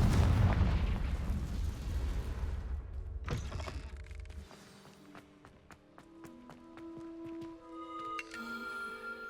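A Confringo blasting spell is cast in Hogwarts Legacy, giving a loud burst of explosive energy that decays into crackling, ringing magical sparkle. No voices are heard.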